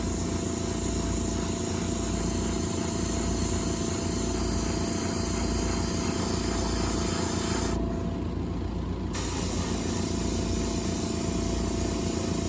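An airbrush sprays a medium wet second coat onto model car wheels, a constant close hiss that holds steady throughout and cuts out briefly for about a second partway before resuming.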